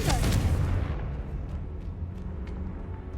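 A Confringo explosion spell goes off in Hogwarts Legacy, a loud booming blast that rolls into a rumbling decay, with a few faint crackles after it.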